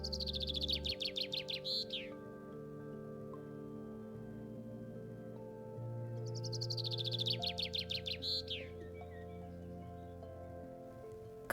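Two bright, descending common chaffinch song phrases ring out a few seconds apart, each a rapid trill ending in a flourish, over a soft musical background.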